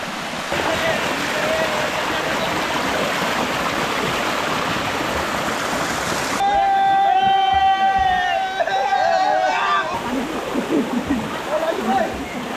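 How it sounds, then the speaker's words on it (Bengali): A small, shallow-water waterfall at Kupikata Khum on the Napittachora trail in Sitakunda, during light rain, gives a steady broadband rush of falling water. Thin tonal chirps rise over the flow for a few seconds midway. "আমার পেছনে হচ্ছে কপিকাটা খুম তো এই ঝর্ণাটা দেখতে ছোট হলেও এটা অনেকখানি গভীর"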